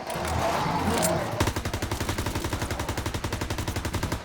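Rapid gunfire in Call of Duty: WWII Nazi Zombies, a loud, even burst of many close shots fired in quick rhythm after a rushing, noisy opening.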